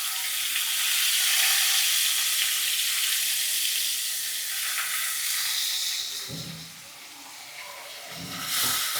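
Ground onion paste frying in a heavy-bottomed pan over a low flame for onion gojju curry, a steady close sizzling hiss with brief stirring scrapes near the end.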